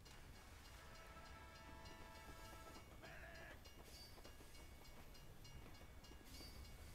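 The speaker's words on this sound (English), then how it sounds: "there's a train." Train rolling past in the video game Team Fortress 2, a steady rumbling clatter with a brief tonal squeal midway, running continuously beneath game noise.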